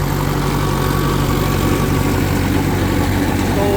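A modified Mahindra 585 XP Plus turbo tractor engine runs steadily at close range, a loud, continuous low rumble with constant vibration and no pauses throughout.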